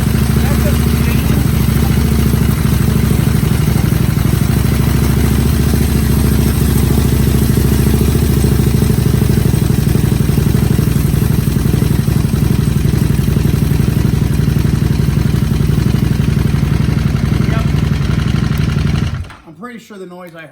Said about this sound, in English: the noise I heard, you may have heard it too, is just the chain, because it's only doing it in 5th and 6th gears